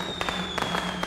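Fireworks in the horror game Dark Deception, a few quick sharp crackling pops in a rapid burst at moderate volume over a steady faint tone.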